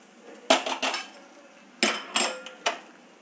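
Metal utensil clinking against a metal vessel while mixed kalandha rice is scooped and stirred, a few sharp scrapes and clinks spaced irregularly, close and fairly quiet with no talk.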